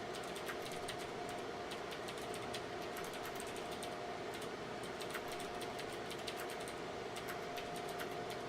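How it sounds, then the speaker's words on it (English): Clicky keystrokes on a noisy computer keyboard patter in irregular bursts, faint beneath a steady mechanical hum of whirring fans, with no talking. "I like my noisy keyboard."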